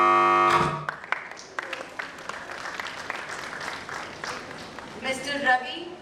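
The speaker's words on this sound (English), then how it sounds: "Can we have a huge round of applause, please?" Conference audience applauding speakers at an event on commercial vehicle electrification, a sustained wash of clapping that rises after a brief spoken introduction and carries on steadily with a swell toward the end.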